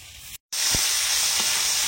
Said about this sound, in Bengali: এখন মাছের তেলটাও ভেজে নেব, একটু ভাজা করে নেবো।